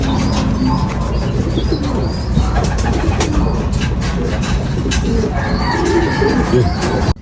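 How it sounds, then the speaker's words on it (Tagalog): Pigeons at a racing loft cooing and fluttering close by, a steady run of soft coos and chirps that stops abruptly at the end. "Ito yung isa mga kalapatids."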